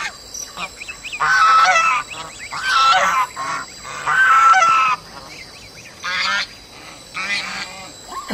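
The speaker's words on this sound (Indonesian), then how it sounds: "Ini angsa." Geese honk loudly in several harsh bursts with short gaps between them, close by, some calls overlapping, in the game Jurassic World Evolution 2.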